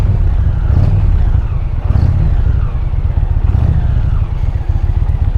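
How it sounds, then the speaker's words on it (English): A 2025 Indian motorcycle engine idles loud and close with its exhaust rumbling steadily, a deep throbbing burble with slight swells, alone without talk. "Exhaust sound is pretty darn nice."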